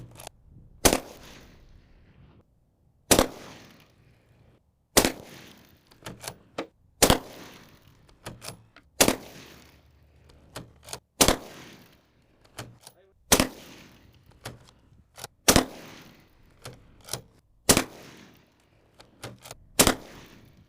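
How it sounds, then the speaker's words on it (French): Rifle shots from an AK firing 7.62x39 API BZ rounds into a ceramic body-armour plate on a range, loud, sharp single cracks spaced a second or two apart, each with a short ringing tail, with no talking. "Premier tir."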